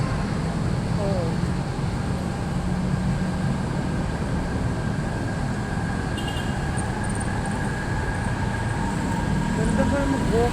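A constant rumbling roar of an elevated MRT train passing nearby on Quezon Avenue, mixed with street traffic noise and faint voices.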